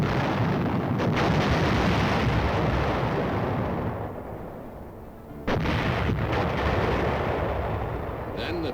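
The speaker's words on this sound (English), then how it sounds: "The men waited while artillery methodically blasted the oncoming Reds." Artillery fire in wartime newsreel footage of the 25th Infantry Division in Korea: dense, rumbling barrages of booms blend into a continuous roar, dipping briefly before resuming heavily.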